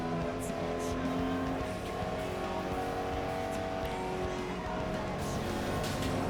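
Race cars in the FlatOut Ultimate Carnage video game roar steadily through a pit building and into the first corner, with dense engine drone, revving and occasional tire squeal throughout.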